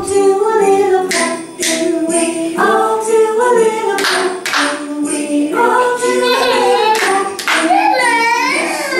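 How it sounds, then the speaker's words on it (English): Children and a teacher clap their hands during an English-language music session for kids, a series of sharp bursts ringing out over sung melody and voices, with a loud, continuous mix throughout. "Now for the tricks, clap, let's clap. We all do a little clap."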